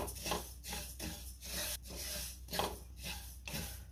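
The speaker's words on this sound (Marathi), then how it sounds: "तीळ भाजताना एकसारखं असं आपण मिक्स करत राहायचंय" Sesame seeds dry-roasting in a pan on the stove, stirred steadily so they toast evenly, give repeated rhythmic scraping and rustling strokes, close and moderately loud, with no talking.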